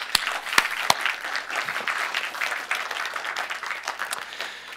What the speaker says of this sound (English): we should just give them a round of applause